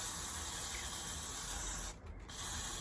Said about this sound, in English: I'm just going to give it a little wash, maybe with a bit of brake cleaner